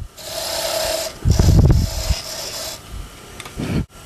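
A skew chisel shaves wood on a spinning lathe, a steady close rasping hiss that swells into a louder rough cut midway, then eases off before a final brief scrape.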